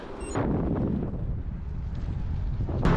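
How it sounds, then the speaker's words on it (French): Heavy wind near Carpiquet airport in France buffets the microphone with a continuous low roaring rumble, loud and close, fluctuating slightly over a few seconds. "le vent est quand même bien présent, plus que ce que je pensais"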